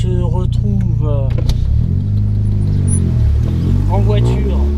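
Car driving along a road in Japan, heard from inside the cabin: a constant low engine and road hum fills the background while people talk over it.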